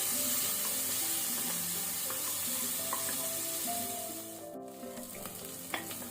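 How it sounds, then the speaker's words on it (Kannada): Onions and green chillies frying in a pan for vegetable pulao, giving a steady, close sizzle that softens toward the end, with a few light utensil taps and no voices. "ಈಗ ನಾವು ಈರುಳ್ಳಿಯನ್ನು ಒಳ್ಳೆ ರೀತಿ ಫ್ರೈ ಮಾಡುವ."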